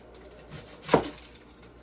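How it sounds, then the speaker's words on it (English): A knife cuts the end off an onion on a wooden cutting board, giving a single sharp chop with a brief thud, close and clear against a quiet kitchen background. "And I'm starting on the 3rd bag of onions. I cut the ends off."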